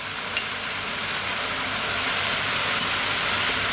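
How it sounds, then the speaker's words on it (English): Canned tomatoes and tomato paste sizzle in a pan over medium heat, a steady close hiss with no talk. "Gonna add that can of tomatoes and the tomato paste or puree."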